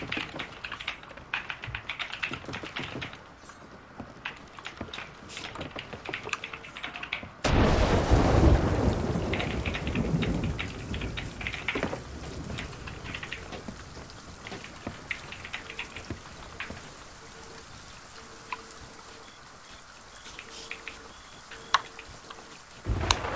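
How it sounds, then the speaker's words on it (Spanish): A thunderstorm with rain in the PC pirate game Sea of Thieves: steady rainfall, then a loud rolling thunderclap about a third of the way in, while computer keyboard typing clatters throughout. "A ver si pasa ya la tormenta"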